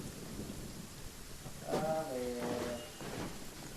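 Steady rain hisses in the open world of Genshin Impact, with a low rumble beneath and a faint tonal game effect rising over the downpour midway.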